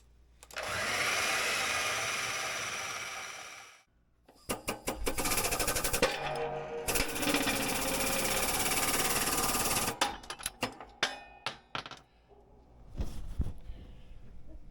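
A bandsaw cuts steel sleeves clamped in vise grips for a vintage Scorpion Bullwhip snowmobile's Pararail skid conversion to a 121-inch track. Two loud, sustained grinding cuts alternate with rattling, clattering bursts, with no talking.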